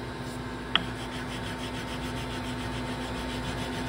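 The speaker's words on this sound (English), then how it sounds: "Now I'm going to move up here and sand alongside the box inlet." A flintlock rifle's wooden stock is hand sanded alongside the box inlet, giving a soft, steady rhythmic rubbing that is faint and close, with one brief sharp tick early on.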